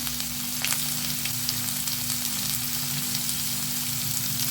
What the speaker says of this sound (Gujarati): મોટા મોટા કટકા જ કર્યા છે અને આપણે તેલમાં ફ્રાય કરીશું